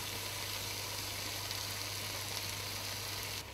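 Fish added to sautéed vegetables sizzles in a pan while a coconut-milk fish stew is cooked, giving a steady, fairly quiet frying hiss that continues unbroken throughout.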